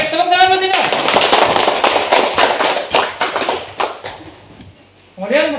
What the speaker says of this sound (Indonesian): Baik, tepuk tangan buat dia.